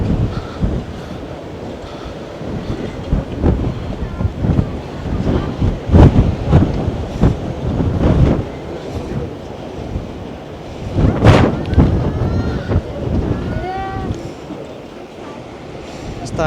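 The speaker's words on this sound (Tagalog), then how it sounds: "Mahangin dito. Sobrang hangin." Strong wind at Point Reyes above the North Atlantic Ocean buffets the microphone in loud, irregular gusts, with a person talking intermittently underneath.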